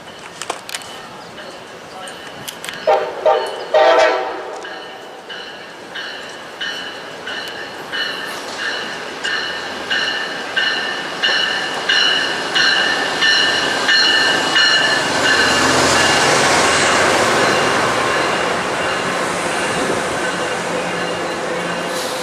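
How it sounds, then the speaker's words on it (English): Passenger train passing at Fullerton, California, with a CSX Dash 8 locomotive sounding a horn salute: a loud blast near the start, then a long stretch of rhythmic wheel clatter over rail joints that grows denser and louder as the cars roll by. "I like that horn salute there from the engineer. The horn there was pretty nicely executed."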